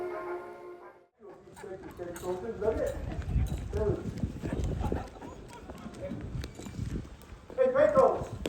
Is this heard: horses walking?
yes